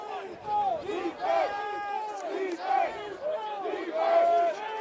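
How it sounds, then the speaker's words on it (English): A crowd at a college division football game roars and chants in repeated rhythmic surges of many voices, loud and close, rising and falling in waves with shouted calls over the top. "Crowd here going wild, supporting the Cavaliers."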